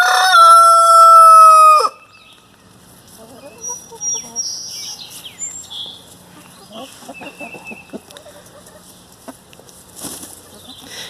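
Hamburg rooster crowing loudly and close for about two seconds, followed by softer, scattered clucking and chicken calls in a coop over faint background noise.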